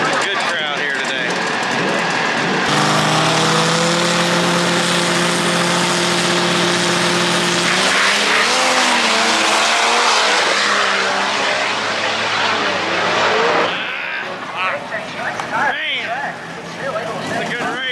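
Loud small-tire drag race cars roar and rev in a sustained, rising blast at a no-prep drag racing event before the noise breaks off, followed by a crowd and talk.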